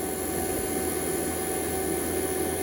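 A vacuum pump runs on an air conditioning system, a steady, continuous motor hum with a hissing, droning tone that stays constant and fairly loud throughout.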